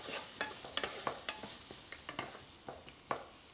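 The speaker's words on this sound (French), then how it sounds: "faire revenir ces petites échalotes" Shallots fried in a pan and stirred with a spatula, giving a steady close sizzle broken by a string of sharp scraping clicks as the spatula moves.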